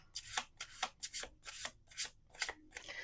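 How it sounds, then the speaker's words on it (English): Tarot cards being shuffled by hand, a quick run of crisp riffling bursts about every half second over roughly three seconds, close and fairly quiet with no talking. "We're going to do 2 more shuffles."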